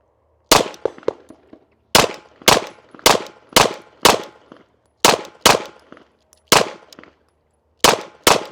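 An HK VP9 pistol fired in a series of about a dozen loud, sharp shots with ringing decay, spaced in irregular groups with short pauses, close to the listener and without speech.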